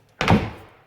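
Double pull doors on a house pantry shut with a single close, solid thunk that decays quickly.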